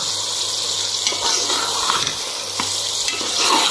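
Peas frying in masala and oil for a mixed vegetable dish, a bright hissing sizzle with intermittent scraping stirs and a faint low hum, close and moderately loud, without speech.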